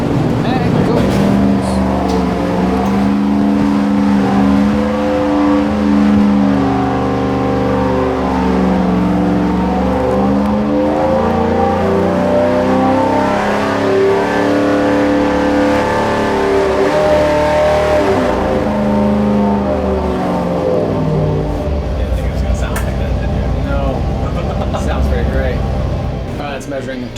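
A modified carburetted engine on a dyno revs loudly and steadily for nearly half a minute, a dense, continuous roar with shifting pitch as the throttle rises and falls.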